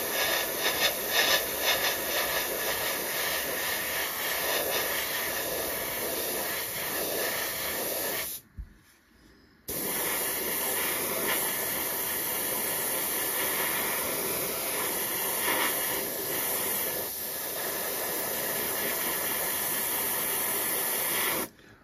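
An airbrush at about 20 psi sprays paint onto a 1/72 scale Me262 model kit, producing a steady close hiss that cuts out briefly partway through and then resumes.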